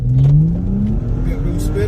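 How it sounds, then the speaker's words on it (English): A BMW M135i F20 launches hard from a standstill, its engine note climbing loudly and steadily close by, with some tire noise and voices underneath. "I'm just gonna gas it from stationary and see what I can do"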